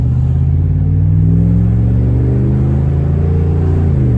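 A deep, rumbling 2017 Ram 1500 pickup truck engine revs up, its exhaust note rising steadily in pitch, loud and close.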